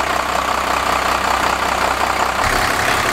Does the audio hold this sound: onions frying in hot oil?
no